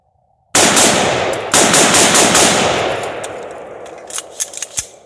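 A Bear Creek Arsenal 16-inch Gen2 5.56 AR rifle fires cheap steel-case ammunition in a loud, close, rapid string of sharp cracks with ringing echo, followed by a few scattered single shots as the firing tapers off.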